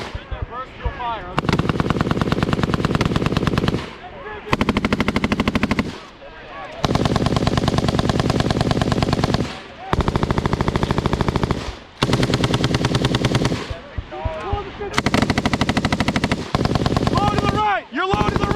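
Machine guns firing during military training, long loud sustained bursts of rapid fire separated by brief pauses, close and dominant, with a few shouted commands between bursts.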